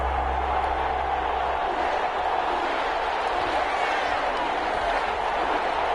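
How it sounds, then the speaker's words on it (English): Stadium crowd in an EA Sports NFL video game before a Dallas Cowboys and New Orleans Saints matchup, a dense steady roar filling the whole stretch. "This crowd is ready as their guys get set to match up"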